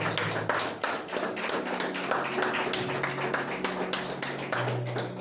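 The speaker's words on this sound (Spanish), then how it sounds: "¿Cuántos pueden darle un fuerte aplauso al Señor en esta noche?" Congregation clapping during a Sunday church service, a loud, fast flurry of many hands striking in a dense irregular patter, close and sustained over several seconds with no speech.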